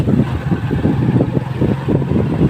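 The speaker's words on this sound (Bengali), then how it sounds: "যে বাইকটা চালালে আস্তে চালাবেন, মানে ধীর গতিতে বাইকটা চালাবেন" A motorcycle rolls along slowly with a low, rumbling engine drone and buffeting wind on the microphone, loud and close throughout.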